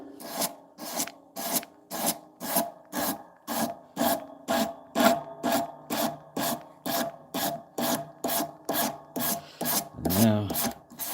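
A knife blade is hand-sanded with abrasive grit. About twenty even, rhythmic rasping strokes sound close and alone, with a brief different scrape near the end.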